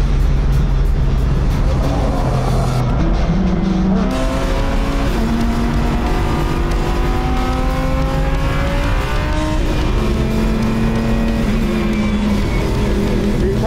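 A supercar roars steadily past on a race track, its engine note rising and falling through gear changes with faint tire squeal, loud and continuous.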